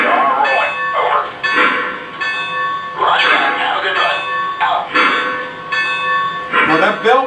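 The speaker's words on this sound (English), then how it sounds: "The bell comes on automatically and the engine begins moving." A Y-3 Legacy 2-8-8-2 model locomotive's bell rings steadily in a repeating clang pattern throughout, loud and close, with a voice talking over it.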